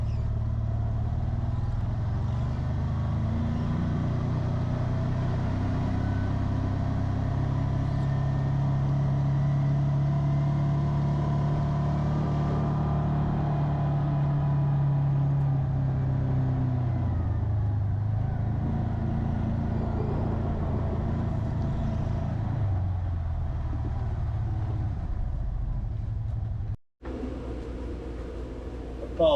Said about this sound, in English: That's the heater.